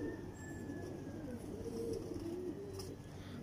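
A pet Teddy pigeon coos softly and low, a few rolling murmured calls in a quiet room with faint background hum and no clear talk.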